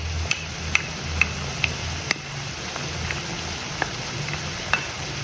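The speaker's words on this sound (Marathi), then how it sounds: "हे छान असं परतून घ्यायचं" Vegetables sautéing in a pan with soy sauce, vinegar and tomato ketchup for a crispy veg starter, a soft continuous sizzle broken by regular light clicks of stirring; no talk.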